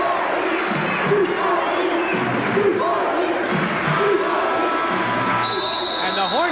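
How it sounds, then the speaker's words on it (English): A college basketball crowd at Temple vs. Rutgers in 1992 jeers loudly and continuously, a dense arena roar with scattered shouts throughout. "The crowd is booing"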